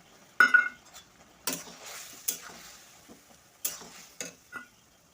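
Okra curry cooking in a pan after water is added, with a soft sizzle under scattered spoon scrapes and clinks against the pan, several sharper knocks standing out among quieter stirring.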